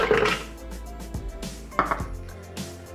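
A kitchen machine chops chocolate in short, harsh whirring bursts, blades rattling and clattering against the bowl, with no voices.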